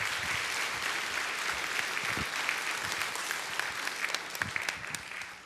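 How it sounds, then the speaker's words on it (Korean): A church congregation at a revival service applauds to welcome the pastor, a dense sustained clapping from many people in a large room, loud and continuous, tapering slightly at the end. "뜨거운 박수로 우리 목사님 나오실 때 맞이해 주시기 바랍니다"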